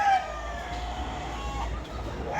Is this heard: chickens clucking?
yes